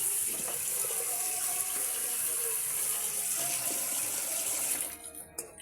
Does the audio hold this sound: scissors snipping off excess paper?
no